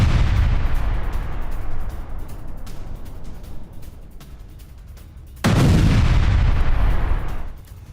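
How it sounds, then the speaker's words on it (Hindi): Mortar fire and explosions on a Ukrainian front line in the Zaporizhzhia war: loud, heavy booming that fades into rumbling, then a sudden powerful blast followed by sustained roaring. "मोर्टार ग्रुप ने यूक्रेनी पोजीशंस को उड़ा दिया है"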